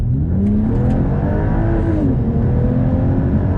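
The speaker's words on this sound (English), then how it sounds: "Let me just slow down and accelerate and see how it does." A Volvo truck with an upgraded TF80/TF81 SC transmission accelerates from a first-gear roll, its engine droning loud and steady as the pitch climbs and shifts through the revs, with no talk.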